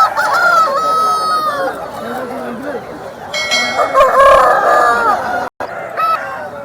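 Roosters at a rooster market crow loudly and close, several long overlapping calls with clucks between them, against a busy crowd backdrop.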